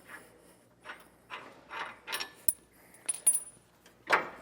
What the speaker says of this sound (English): Pop this bolt out the rest of the way.